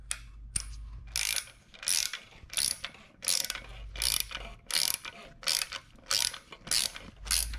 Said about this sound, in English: So now I'm just gonna back this bolt off